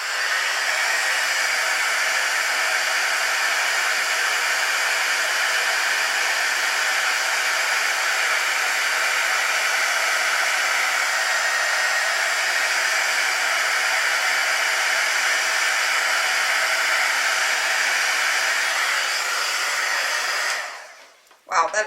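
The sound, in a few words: heat tool blowing to emboss a card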